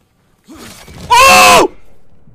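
A single horse whinny in Ghost of Tsushima, loud and shrill with a falling pitch, lasting about half a second amid faint background noise.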